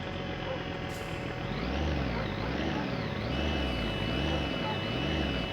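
Truck in My Summer Car driving with a steady low engine drone that swells and dips in slow rhythmic waves, a wobbling, wavering pitch throughout, loud and continuous.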